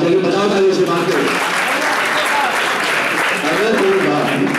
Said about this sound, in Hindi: बताओ ताली से बात करो